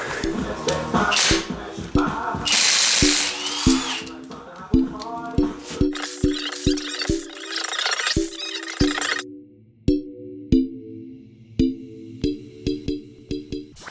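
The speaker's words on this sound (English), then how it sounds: "So now we're going to jack the front up, add an inch, jack the rear up, add an inch" A jack raising a Lexus IS250 in a garage for coilover adjustment: steady, evenly spaced ratcheting clicks and squeaky metal creaks with each pump stroke, close and moderately loud.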